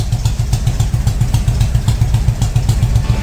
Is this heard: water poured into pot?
no